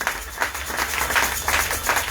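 A church congregation applauding for the Lord, a dense, steady patter of many hands clapping with rhythmic swells, close and continuous throughout.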